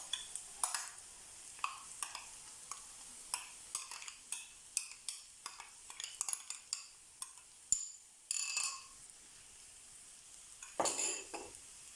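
A spoon scrapes and knocks against a pot while stewed potatoes with sour cream and ketchup-style lecho sauce are stirred, giving irregular close clinks and scrapes over a faint, quiet background.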